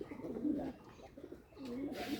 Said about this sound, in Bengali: দেখুন আপনারা কীভাবে ডাকাডাকি করে কবুতরগুলো।